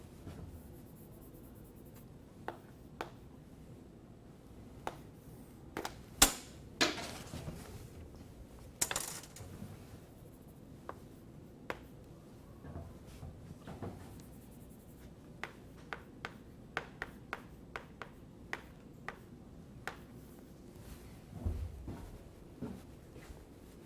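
Chalk writes on a blackboard during a numerical analysis lecture, with scattered taps and short scratchy strokes at an irregular pace and louder clusters in the middle.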